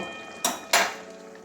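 A metal spoon scrapes and clinks twice against a pan as garam masala powder is stirred into a softened meat curry, two quick close metallic strokes followed by quiet.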